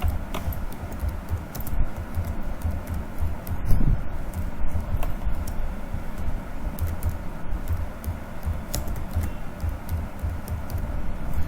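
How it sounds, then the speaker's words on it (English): Fingers tap on a computer keyboard in a quick, uneven run of light clicks, with steady background hiss and no talking. "After I have typed all the points, I have typed only 3, you will type all the points."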